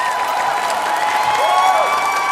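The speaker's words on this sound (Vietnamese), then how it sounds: "Xin hãy dành một tràng pháo tay cho gia đình Bạch Gia Trang ạ" Audience applause for the Bach Gia Trang family at a Vietnamese singing contest: a steady, dense wash of clapping and crowd noise lasting the whole moment, with music tones ringing underneath.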